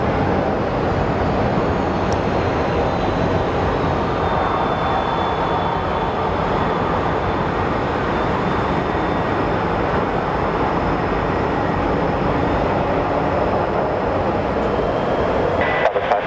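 An American Airlines jet takes off from runway 7 left at Phoenix Sky Harbor Airport. A loud, steady broadband engine roar holds close and constant throughout, with no voices over it.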